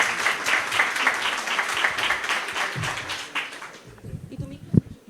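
An audience claps and applauds at a live talk show event, dense clapping that fades out over a few seconds as a voice speaks over it.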